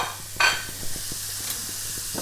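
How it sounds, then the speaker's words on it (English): Steady hiss of food sizzling in a hot pan, with a brief sharp clink near the start and soft rhythmic scraping underneath. "You can hear that sizzle, so it's nice and hot."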